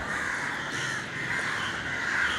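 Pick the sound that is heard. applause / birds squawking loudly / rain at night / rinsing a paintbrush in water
birds squawking loudly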